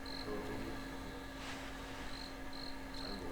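A cricket chirps in short repeated trills on an early-winter night in the mountains at a wild tea house in Suncheon, South Korea, steady and moderately close over a low constant background hum.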